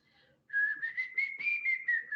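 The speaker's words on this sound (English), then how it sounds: "Oh, I can't whistle either." A person whistles a short, steady melody up close, a clear tone that wavers and steps in pitch for under two seconds after a brief silence.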